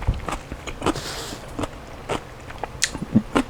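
Crunchy kkakdugi, cubed radish kimchi, is bitten and chewed up close in a series of sharp, irregular crunches and wet chewing clicks, with no talking.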